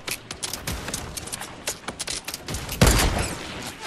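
Pistol shots ring out in a video game, a quick irregular run of sharp cracks ending in a louder burst.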